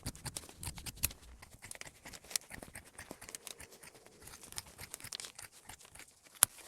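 Quilted coat fabric being cut with shears gives a close, continuous run of crisp snips and papery rustling, ending on one sharp click, with no talk.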